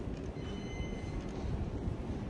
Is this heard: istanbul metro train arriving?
yes